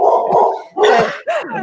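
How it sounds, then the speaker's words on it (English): A dog barks right after a knock at the door, giving three loud, close barks in quick succession with short gaps between them, the last one rising into a yelp. "The dog was literally sitting by my feet as someone's just knocked at the door"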